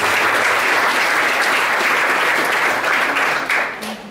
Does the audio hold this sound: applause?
yes